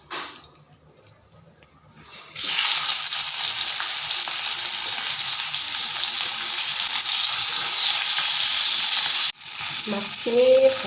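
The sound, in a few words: fish frying in a pan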